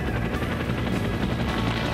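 An AH-1 Cobra attack helicopter in the ArmA III video game gives a loud, close, continuous rotor thrum with a rapid beating rhythm and no speech over it.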